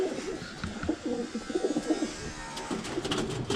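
Racing pigeons coo in a cage, their soft, throaty calls rising and falling in overlapping rounds, fairly close, with light rustling behind them.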